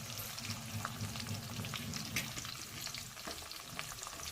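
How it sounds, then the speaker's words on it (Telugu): Chopped tomatoes frying in a pan for a chicken curry give a steady, close, continuous sizzle, with occasional stirring scrapes and no voices. "టమోటాలను వేసుకోవాలి."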